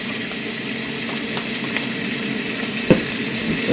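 A large garlic clove sizzles and fries steadily in a pan, a continuous close hiss with small crackles and one brief clatter near the end, with no talk.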